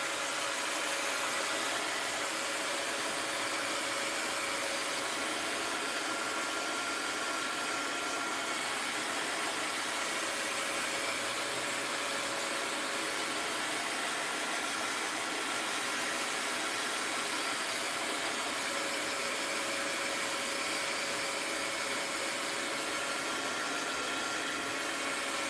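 A hair dryer blowing steadily over a mixed-media journal page, a continuous broadband whoosh with a constant motor hum that runs unchanged for the whole stretch, close and loud with no talking.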